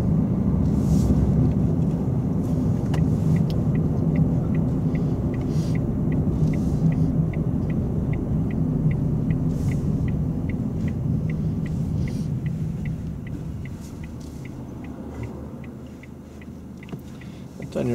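A car on a road during a driving lesson, a steady loud rumble of engine and road noise that eases slightly as it moves off, with a faint regular ticking, likely the indicator.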